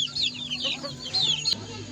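Pet chickens cluck busily while eating Madre de Agua leaves, a quick run of close, high-pitched clucks and chirps, with no talk.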